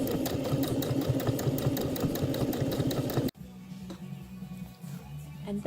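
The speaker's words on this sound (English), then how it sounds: "And then top stitch, waistband all the way along, catching the little seam allowance on the inside" Sewing machine top stitching along a vintage skirt waistband made with wide bias binding, a loud steady mechanical whir with rapid even needle pulses that cuts off abruptly partway through, leaving quieter handling noise.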